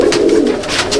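Malbahi pigeons coo in a loft, a close, loud, low throaty cooing with soft pulsing repetitions.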